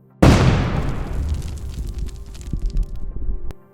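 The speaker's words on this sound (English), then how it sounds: "As a result of the powerful explosion, the barrel was completely destroyed" A powerful explosion from a drone bombing strike on a barrel in a war zone: one sudden, loud close blast followed by a long rumbling decay with debris and crackle, then a sharp pop near the end.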